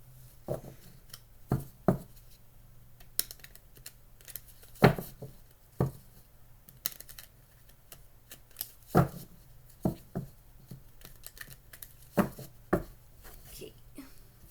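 Quick bursts of tarot cards being riffled and shuffled, several separate flurries spaced across the clip, close up, with a faint hum underneath.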